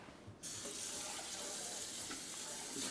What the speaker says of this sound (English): We will also rinse this off just for safety.